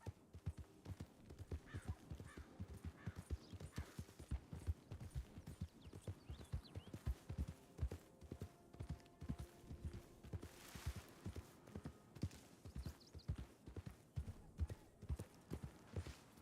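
Horses walking in the video game Red Dead, their hooves clip-clopping in a steady, continuous rhythm throughout at low volume, with an occasional faint whinny and no talk.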